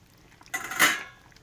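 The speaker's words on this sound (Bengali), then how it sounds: "আস্তে আস্তে এটা নাড়াচাড়া করতে হবে।" A spoon scrapes and clinks once against a pot of simmering fish curry with okra, a brief close metallic stir standing alone.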